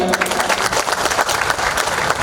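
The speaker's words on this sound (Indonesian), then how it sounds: "Tepuk tangan untuk keduanya." Steady, energetic applause from an audience: many hands clapping together, loud and continuous throughout.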